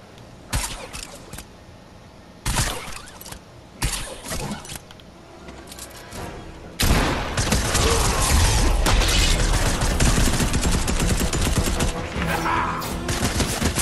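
Harpoon gun fire and combat noise in a wolverine-hunting video game: a few sharp isolated bursts early on, then a loud, sustained barrage of gunfire and clattering impacts filling the second half.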